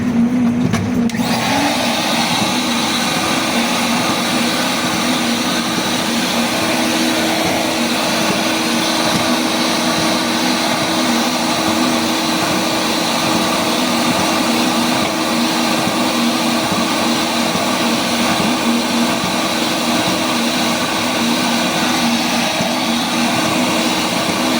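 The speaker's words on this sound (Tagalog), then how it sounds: "Si-switch lang po muna natin ang vacuum para maigo pang dumi." An escalator cleaner's vacuum runs on mall escalator steps, switching on with a brief clatter and settling into a loud, steady motor whine with a constant airflow roar, close by and uninterrupted, with no voices.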